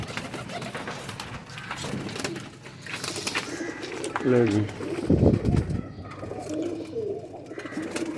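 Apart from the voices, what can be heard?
pigeons in a pigeon keeper's collection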